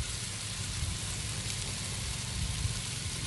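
Steady, even sizzling of butter frying on a hot Blackstone griddle, a constant crackling hiss with no voices.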